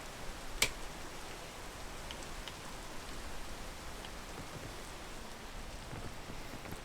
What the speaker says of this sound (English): I hate the rain in this game